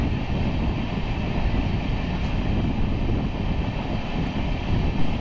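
An Amrit Bharat Express on its Bhagalpur–Gomtinagar inaugural run passing close by as a steady, loud, deep rumble of wheels and carriages lasting throughout.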